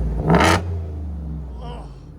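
A supercharged Ford F-150 5.0L V8 with headers and Black Widow Race Venom exhaust blips once, loud and close, then falls back into a low, rumbling idle.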